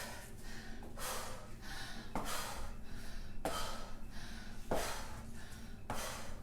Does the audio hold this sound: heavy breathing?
yes